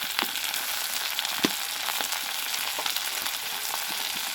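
Onion and a medium tomato sizzle and fry in a pan, a continuous crackling hiss with scattered sharp pops and stirring scrapes, close and steady.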